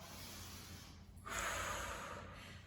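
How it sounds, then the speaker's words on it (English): A long breath pushed out during a Pilates mini-band exercise, a close, steady exhale swelling after a short pause and fading slowly, with no talk over it. "and breathe out."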